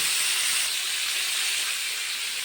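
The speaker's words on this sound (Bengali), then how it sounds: "আমি এখন অল্প হলুদ দিয়ে ভালোভাবে ভেজে নেব" Cauliflower fries with turmeric in a pan, giving a continuous bright hiss and sizzle, steady and fairly close throughout.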